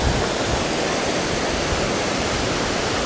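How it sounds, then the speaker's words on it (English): The Duden waterfall in Antalya roars as a dense, steady broadband rush of falling water, loud and unbroken throughout with no voices. "That's the Duden waterfall right there."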